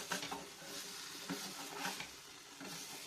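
Snow omelette (fluffy beaten-egg omelette) cooking in a hot pan, giving a steady, close sizzle and fry with a few soft stirring scrapes throughout, no talking.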